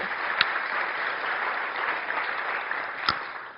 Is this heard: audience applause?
yes